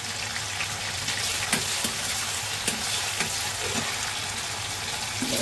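Green chilies and curry leaves fry in hot oil in a pan, giving a loud, dense, continuous sizzle with scattered crackles and light stirring, and no one talking.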